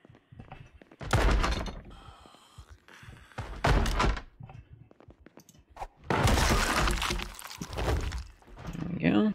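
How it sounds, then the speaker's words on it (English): Zombies pound and smash at a house door in the Project Zomboid survival game, a series of heavy thuds and cracking breaks in loud bursts, with talk over parts of it. "It sounds like a door's about to break down."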